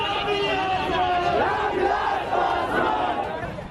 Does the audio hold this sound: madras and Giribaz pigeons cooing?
no